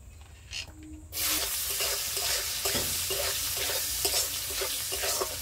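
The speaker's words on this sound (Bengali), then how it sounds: "পেঁয়াজটা আমি লাল লাল করে ভেজে নেব।" Chopped onions sizzle steadily in a hot pan for potato curry, a dense frying hiss with rhythmic stirring scrapes, starting after a brief quieter moment and continuing close and loud to the end.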